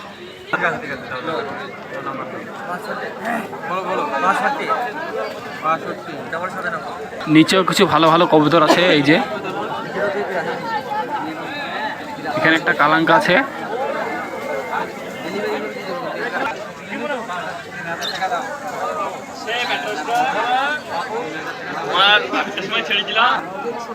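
A busy crowd chatters all around at the Beldanga pigeon market, many voices overlapping in a constant hubbub with some louder bursts, an outdoor market bustle.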